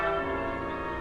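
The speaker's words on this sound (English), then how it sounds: "What's this tea time bell?" Tea time bell from the Wallace and Gromit adventure game rings as one sustained, resonant chime with steady overtones, close and clear, lasting about a second with no voices.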